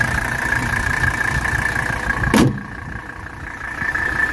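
A 1985 Mercedes 300TD Surf wagon's diesel engine idles steadily nearby with a constant hum and a brief thump partway through. The engine is healthy, with zero blow-by and 65,000 miles, and no one speaks.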